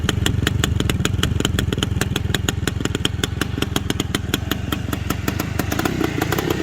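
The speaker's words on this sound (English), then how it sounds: "This is a big bore two-stroke." A loud 1971 Yamaha RT1 360 big-bore two-stroke motorcycle engine runs steadily nearby, its rapid crackling, buzzy beat holding even throughout.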